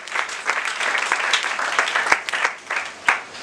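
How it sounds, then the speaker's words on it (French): A church congregation claps loudly together for the Lord, a dense burst of applause with a few sharp individual claps standing out. "Acclamons très fort pour le Seigneur."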